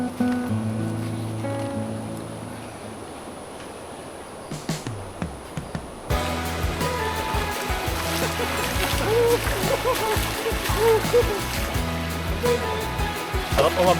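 River water at a riverside camp in Famy, Laguna, rushing and splashing steadily, quieter at first and then louder and closer, with voices faintly mixed in.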